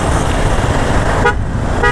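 Busy Mumbai road traffic hums steadily, broken by two short car horn toots near the end.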